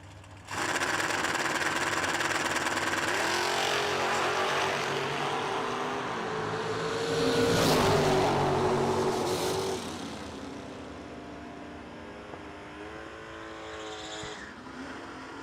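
Drag race cars at a no-delay nationals event roar loudly from launch, a sustained engine blare that peaks and then fades as they pull away, with distant engines lingering.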